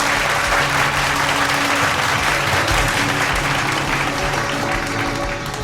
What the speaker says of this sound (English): A very big round of applause to Kanishk.